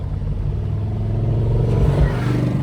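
The engine of a 1970 Chevrolet Camaro revving under throttle from inside the car, a loud continuous low rumble that swells briefly near the end, with no talk.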